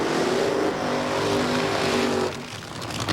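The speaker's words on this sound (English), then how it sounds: "Al Hoffman now gets set to warm up the big tires on that Western Auto Parts America Haviland" Al Hoffman's Western Auto Parts America Haviland Pontiac funny car does a burnout at the 1996 NHRA U.S. Nationals in Indianapolis: a loud, sustained engine roar with tire noise that drops away sharply near the end.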